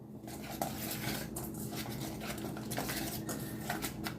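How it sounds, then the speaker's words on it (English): Whisk clinking against a bowl while beating a cheese mixture for crab-stuffed salmon, a steady close scraping and tapping patter running throughout. "Let's give it a little whisk."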